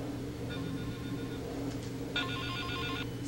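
A phone rings through the small Wii remote speaker during Silent Hill: Shattered Memories: a faint electronic trill first, then a louder ring pattern over a low steady hum.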